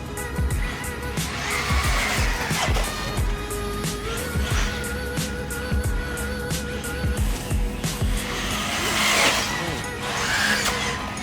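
A Losi Tenacity T 4WD RC truggy drives about, its motor whining and rising and falling in quick bursts, with tire scrabbling and skids throughout and no talk.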